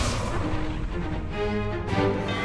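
Incendio fire spell cast in Hogwarts Legacy, a dense roaring burst of magical fire with booming, crackling layers and a tonal shimmer rising midway, loud and continuous throughout.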